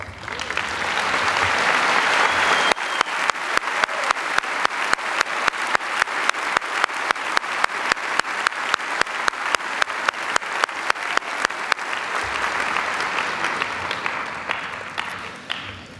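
A large audience applauds at a Chaska High School graduation ceremony, a sustained wash of clapping for seniors who completed projects. Rhythmic unison claps take hold in the middle, then the applause loosens and fades.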